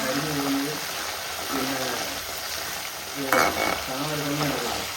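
Potato chips frying in traditional coconut oil, a steady close sizzle and bubbling with occasional stirring, with some faint talk in the background.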